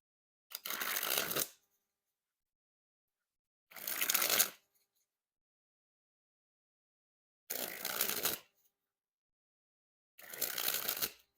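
Four separate bursts of a playing card deck being sprung from hand to hand, Warrior Women cards by Headless Kings, each a crisp fluttering riffle about a second long, close and clear, with silence between.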